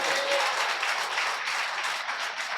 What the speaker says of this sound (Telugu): చప్పట్లు కొట్టొచ్చు కదా.